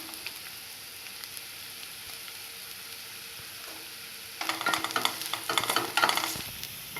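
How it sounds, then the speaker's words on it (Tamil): Onions fried until translucent are stirred with turmeric in a pan for a cassava poriyal, a soft steady sizzle that turns into louder, busier scraping and crackling toward the end. "ஆனியன் நல்லா டிரான்ஸ்பேரண்ட்டாக ஃப்ரை ஆயிடுச்சு. இப்போ இதில் மஞ்சள் தூள் ஆட் பண்ணிக்கலாம்"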